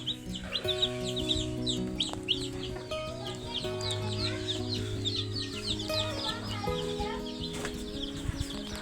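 Young layer chickens cluck and chirp busily in a coop, many overlapping calls close by against a background drone, with no voices.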